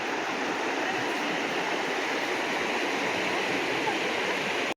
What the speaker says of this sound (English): coming back from Palisades Falls, the waterfall here in Hylyte Canyon.